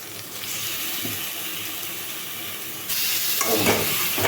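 Loitta fish frying in spiced oil in a pan, a strong steady sizzle that suddenly swells louder and hisses harder partway through, like wet pieces hitting hot oil.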